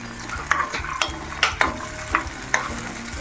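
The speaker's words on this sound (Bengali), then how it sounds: "প্যানে তেল গরম করে নেব এবং তার ভিতরে দিয়ে দেব শুকনো ঝাল, রসুন আর পেঁয়াজ।" Dry chilies, garlic and onion fry in hot oil with a loud, continuous sizzle. Repeated clacks of a spatula stirring against the pan sound close by, and no one speaks.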